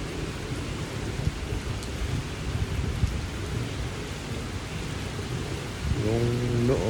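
Dense, steady heavy rain in Dubai hisses and patters with a low rumble underneath, continuous throughout, with a faint tonal sound near the end.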